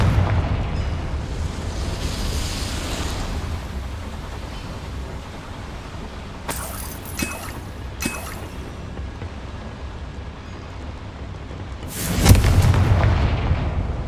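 A Confringo fire spell in the Hogwarts Legacy video game goes off inside a mine as a deep, rumbling explosion, followed by a couple of sharp cracking bursts and a final heavy boom.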